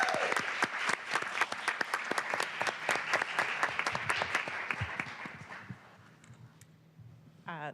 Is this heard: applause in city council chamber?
yes